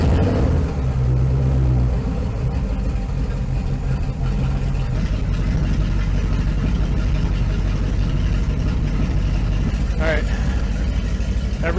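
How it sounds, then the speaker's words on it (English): A Mercury 496 marine engine, back in service after four years, runs at a steady low idle, its deep continuous rumble filling the scene from start to finish with a brief higher whine near the end. "I'm gonna start it up here, let it idle for a little bit"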